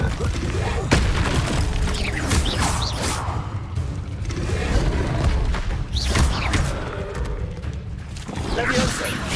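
Confringo blasting spells explode in the Hogwarts Legacy video game, with repeated booming blasts and whooshes over a dense, loud, continuous bed of game noise, while voices are heard throughout.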